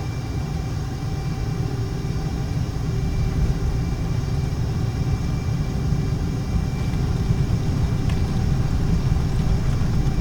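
A military jet engine spooling to full power in Microsoft Flight Simulator, a steady loud low rumble and roar with a faint whine above it, sustained for the whole stretch.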